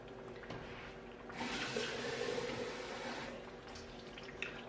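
Tap water running into a pot of lasagna tomato sauce, a steady close pour that swells for a couple of seconds in a home kitchen, with no talk over it.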